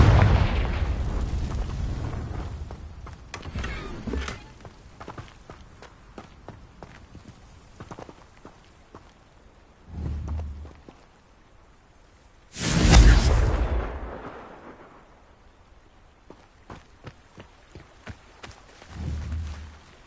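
Spell explosions in Hogwarts Legacy from the Confringo fire curse, a few separate booming blasts spaced several seconds apart, each with a deep rumbling tail, between quieter stretches of footsteps and ambience.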